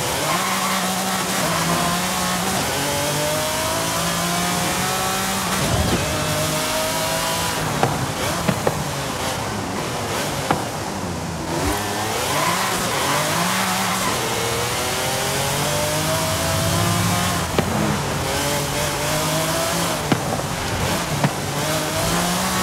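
Jaguar XJR-15 in Forza Horizon 5 driving continuously with a steady engine drone, rising and falling revs across gear changes, and occasional tire squeal, loud and close throughout with no talk.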